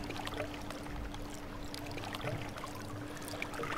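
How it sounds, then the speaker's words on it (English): Water pours into a ride in RollerCoaster Tycoon World, a faint, steady rushing stream with a low hum beneath it and no speech. "let's just get some water in this"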